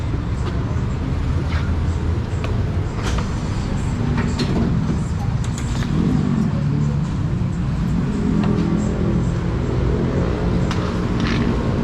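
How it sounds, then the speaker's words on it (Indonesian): An employee bus engine runs with a low, continuous rumble, heard from inside the vehicle along with scattered clatter and faint voices in the background. "ini bus khusus karyawan ya"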